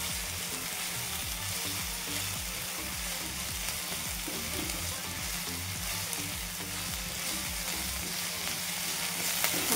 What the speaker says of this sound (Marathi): कांदा पण छान फ्राय करून घ्यायचा.